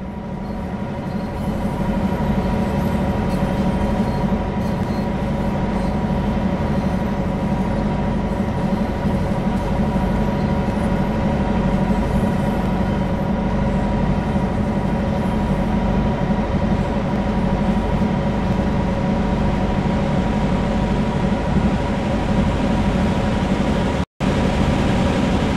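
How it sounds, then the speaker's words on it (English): A GP9RM diesel locomotive engine in a train simulator game drones steadily and loudly, with a deep rumbling hum and constant mechanical noise, heard from inside the cab with no talking. "currently aboard a GP9RM diesel locomotive"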